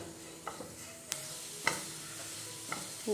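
Grated coconut roasting for a Kerala-style varutharacha kadala curry, stirred in a pan: a faint low hiss with a few soft scraping taps of the spoon at irregular intervals, no voices.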